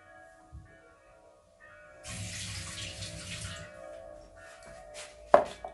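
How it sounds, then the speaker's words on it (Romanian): Water runs from a tap and pours into a small cup for mixing a protein powder drink, a steady close splashing stream lasting a few seconds, followed by a brief clatter. "O să pun un pic de apă."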